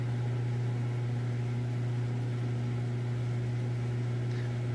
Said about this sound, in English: You can hear that pump running.